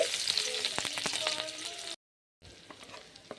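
Chopped ginger sizzles and crackles in hot oil in a kadai, a close, bright frying hiss that cuts out briefly and then returns more quietly.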